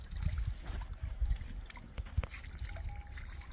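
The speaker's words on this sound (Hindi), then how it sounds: "और ये पानी यहाँ जंगल से निकलता है, बहुत ठंडा पानी है।" Cold spring water runs out of a forest on a hill jungle trek, where people wash their hands and faces. It makes a steady trickling, splashing flow close by, with soft low rumbles and no talking.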